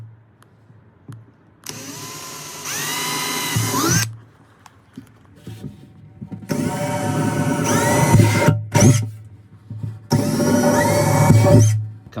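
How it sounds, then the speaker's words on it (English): A power drill whirs in three sustained bursts, drilling into a sea kayak deck to mount a compass, its motor pitch climbing as it spins up, with short pauses between runs and no talking. "to start drilling."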